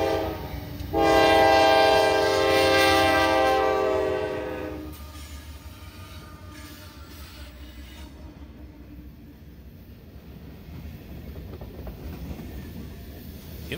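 A freight train horn blares loudly for a few seconds, then the heavy freight train rumbles steadily past with low rolling wheel noise that fades a little.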